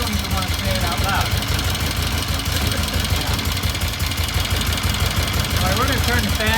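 A vintage British motorcycle engine idles steadily after a repair, giving a continuous rumble with a faint knocking texture, while a person talks over it.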